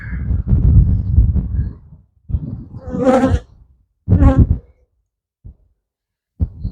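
Bees buzz close around a beekeeper's veil during a swarm capture, loud droning bursts that swell and cut off in a few separate passes near the microphone.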